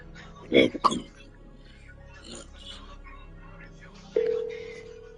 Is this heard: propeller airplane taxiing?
no